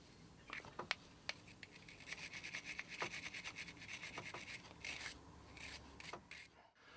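A brass brush scrubs back and forth over tarnished battery charger contacts, a faint, close rasping and rubbing with scattered small ticks and scrapes in irregular strokes.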